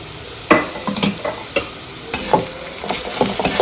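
Onion with garlic and ginger paste frying in a pan, a close, continuous sizzle broken by repeated scraping strokes of a stirring spoon, with no voices.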